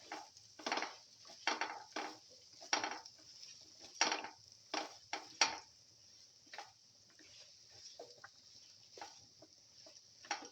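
Eggplant is sautéed and stirred in a pan, with a utensil scraping and clinking against the pan in irregular, quiet bursts and soft sizzling between them.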